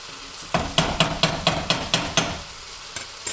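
Okra bhaji cooking in an open pan, with a regular series of sharp scraping stirs against the metal over a soft sizzle, close and moderately loud, about ten strokes with a brief pause near the end.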